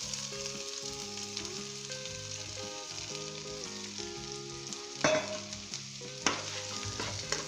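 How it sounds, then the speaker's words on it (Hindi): Onions fry in oil with ginger and garlic for a brinjal masala, a soft steady sizzle with occasional stirring scrapes, faint beneath background music. "और दोस्तों अब हम इसे 2 से 3 मिनट तक फ्राई करेंगे अच्छे तरीके के साथ अदरक लहसुन के साथ।"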